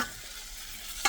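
Onion fries in a pan with a faint, even hiss for about a second, ending in a brief clatter.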